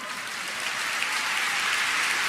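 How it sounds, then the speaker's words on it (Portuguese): A church congregation at a worship conference claps steadily, a soft, even patter of many hands, heard somewhat distant with no voices over it. "aplauda ao Senhor"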